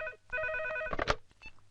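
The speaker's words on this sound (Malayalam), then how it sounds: "ഫോൺ എടുക്ക്." A telephone rings once in a short, faint electronic tone burst, followed by a few soft clicks and noises.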